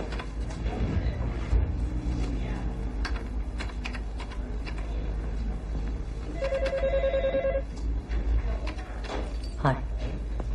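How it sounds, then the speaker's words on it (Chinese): An old-style telephone rings with a rapid, trilling electronic bell in one sustained burst amid room noise, shuffling and a voice speaking, the ring moderately loud and close. "小杨电话"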